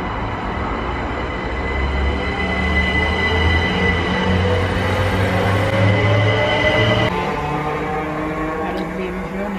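A train rolls past close by, its loud, steady rumble and rattling wheel noise filling the whole stretch without a break.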